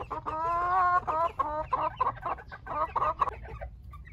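Bantam chickens cluck close by, a series of short rhythmic calls in quick bursts with brief pauses, fairly clear over a faint low background hum.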